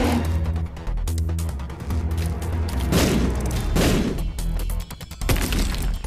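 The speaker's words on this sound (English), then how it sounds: "Those explosions didn't stick around." Repeated booming explosions in The Binding of Isaac, dense and loud over a continuous game soundtrack, with no talking.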